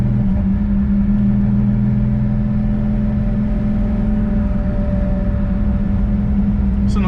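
Steady low engine drone from a 1977 Porsche 911 Turbo Carrera heard from inside the cabin while driving, a constant hum and whir with no clear revving, loud and unbroken throughout.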